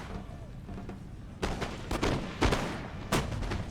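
Musket volleys ring out across a battlefield in Napoleon Total War, with King's German Legion troops firing down into a valley: a few sharp, booming bursts spaced roughly half a second apart after a quieter rumbling lead-in.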